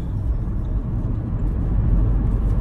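A car cruising along a highway, a steady low road rumble and engine whir heard from inside the cabin, continuous and unbroken with no talk.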